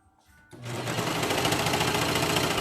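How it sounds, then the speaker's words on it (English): A serger sews and trims fabric for leggings, starting after a brief quiet moment and then running as a loud, close, continuous rapid mechanical whir. "the sergers are nice because they do sew and trim at the same time"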